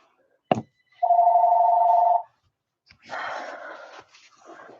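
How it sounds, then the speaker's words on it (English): A home landline telephone rings once in a steady sustained electronic tone, preceded by a sharp knock and followed by faint rustling and movement in a quiet room. "That's my home phone ringing."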